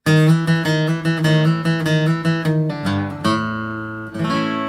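A short electric guitar lick from a song plays alone: a quick run of plucked notes followed by a couple of ringing, sustained bends near the end.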